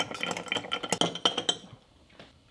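A bar spoon stirs ice in a mixing glass of bourbon, gum syrup and bitters for an Old Fashioned, giving a quick run of close, bright clinks and rattles that fades into quiet after about a second and a half.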